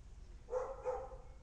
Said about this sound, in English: The dog is running all over the place, shouting out